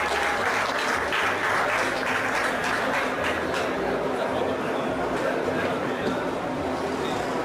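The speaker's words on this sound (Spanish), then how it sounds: "Un aplauso, por favor." An audience applauds at an award ceremony for a Central American World Championship Qualifier, with steady, dense clapping throughout and faint crowd murmur and a low hum underneath.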